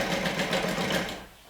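An industrial sewing machine stitches vinyl in a bag-making session, a loud, close, steady mechanical whir with rapid rhythmic pulsing that winds down and stops near the end.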